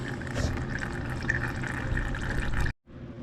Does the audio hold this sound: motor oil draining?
yes